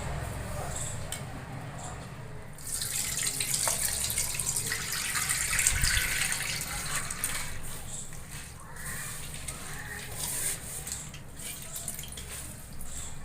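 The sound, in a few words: washing soaked urad dal by hand in a plate of water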